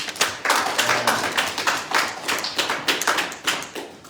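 A small group at a community gathering in George Floyd Square claps in a round of applause, the sharp claps close and distinct and arriving in uneven bursts.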